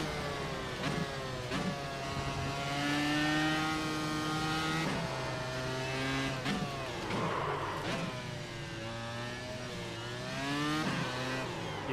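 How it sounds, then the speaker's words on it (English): A loud, high-revving race car engine in an iRacing sim race whines continuously, pitch climbing and dropping sharply through repeated gear shifts, with no talking. "I probably should bring down the engine noise."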